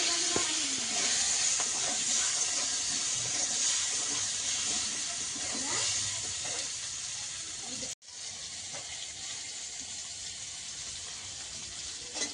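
Potatoes and tomatoes fry in a pan with garlic, ginger and green chilies, giving a steady, loud hissing sizzle that barely changes from start to finish, with a brief dropout partway through.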